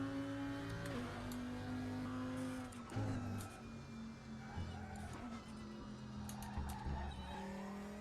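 An Audi 2.5-litre inline-five turbo race car rated at 600 horsepower in the RaceRoom racing game, with a sustained engine drone that shifts pitch through gear changes alongside tyre squeal, heard steadily at moderate level.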